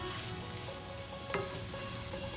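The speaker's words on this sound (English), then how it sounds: "Just keep stirring it up for 5 minutes." Tomato rice fries in a pan, a soft, even sizzle with faint stirring and one small clink partway through, fairly quiet overall.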